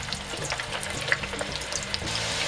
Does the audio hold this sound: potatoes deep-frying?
yes